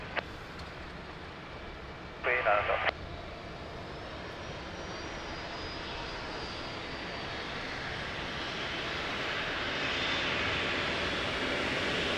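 An Embraer jet airliner at Lisbon Airport gives a distant, steady engine roar that slowly swells louder over the span, after a short burst of another sound near the start.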